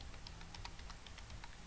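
Faint, quick keystrokes on a computer keyboard, a light irregular patter of clicks over a low background hum.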